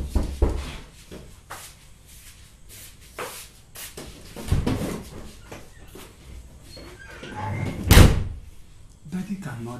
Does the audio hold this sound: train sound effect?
no